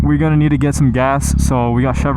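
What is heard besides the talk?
No distinct noise like a dog, phone or traffic.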